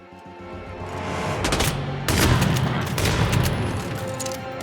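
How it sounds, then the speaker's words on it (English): Shotgun fire in Hitman World of Assassination, a rapid string of loud booming blasts with a sharp peak just after two seconds, set against echoing game ambience, with no talking. "I do love me some shotguns."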